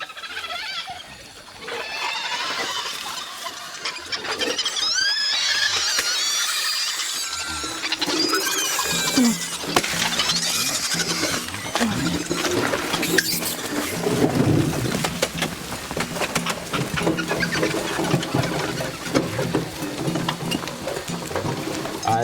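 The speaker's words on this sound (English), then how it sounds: "they're making some screaming sound of hungry" Hungry drill monkeys scream at feeding time, a dense, loud chorus of shrill squeals and screeches that swells after a quieter start and continues without a break.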